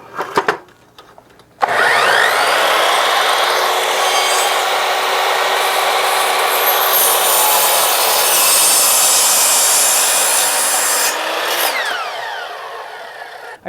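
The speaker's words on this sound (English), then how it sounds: "This is a compound miter saw." A compound miter saw running on a Zendure Superbase V power station whines up to speed after a short pause, runs loud and steady for about ten seconds, then spins down.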